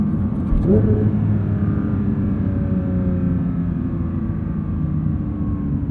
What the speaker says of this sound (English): Auto rev matching system does a fantastic job.